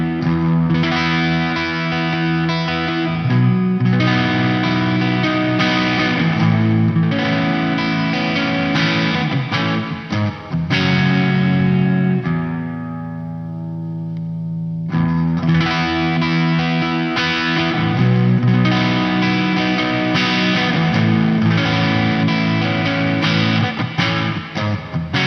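Electric guitar run through the chorus of a Sonicake Levitate reverb and delay pedal, sustained shimmering chords with a slightly distorted edge, loud and continuous, one brief fade before the strumming returns.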